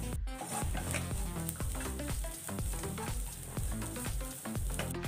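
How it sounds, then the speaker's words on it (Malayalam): Ginger garlic paste sautéing in a pan with turmeric and chili powder, a steady close hiss of frying with soft scrapes and stirring knocks throughout, no voices. "ഇഞ്ചി വെളുത്തുള്ളി പേസ്റ്റൊക്കെ നന്നായിട്ട് വഴണ്ടു വന്നിട്ടുണ്ട്."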